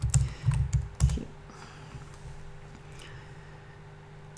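Rapid computer keyboard clatter in bursts for the first second or so, then quieter scattered keystrokes over a steady low computer fan hum.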